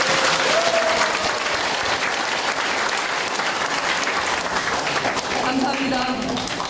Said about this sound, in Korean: 큰 박수를 보내드립시다.